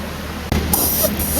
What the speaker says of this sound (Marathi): पाऊस नॉनस्टॉप पडतोय